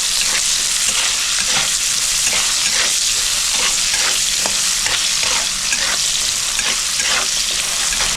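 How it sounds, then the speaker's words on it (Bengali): Pieces of drumstick (moringa) frying in oil with turmeric and salt for a moong dal dish, a loud steady sizzle with repeated scraping strokes of a stirring spoon throughout, no voices. "সজনাটাও আমি একটু হলুদ আর একটু নুন দিয়ে ভেজে নেব হালকা লাল করে"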